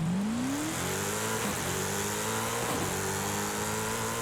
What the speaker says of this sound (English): You can hear that LS7, one of the better sounding engines period in the game